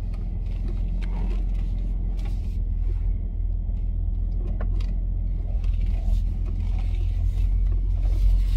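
A car drives along steadily with a constant low engine rumble and road noise from inside the cabin, with no talking.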